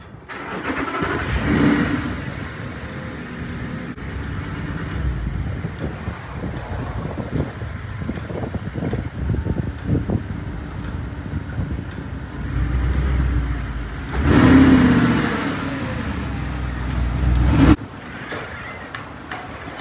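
Audi R8 sports car engine while driving, a steady mid-pitched drone heard from inside, with louder swells and revving surges around the start and near the end, and no talking.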